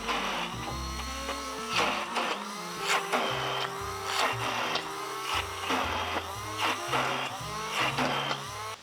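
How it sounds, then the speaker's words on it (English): A handheld immersion blender whirs steadily through a pulled pork mash, a continuous loud motor drone with shifting pitch and churning texture, alone without talk. "I might pull out the immersion blender and just see if we can get like a really, really silky mash"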